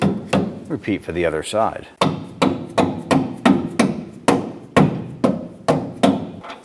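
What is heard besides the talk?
tapping air shock units into place on Chevrolet S10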